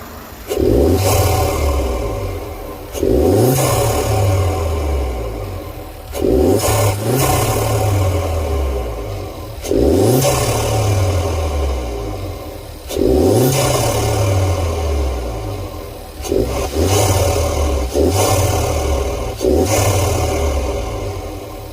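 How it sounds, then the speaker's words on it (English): 1.4 TSI engine in a VW Jetta MK6 fitted with a homemade cold air intake, revved repeatedly in about seven loud, close bursts that each rise and then fall back to idle, with no talking. "I'm gonna give you some revs"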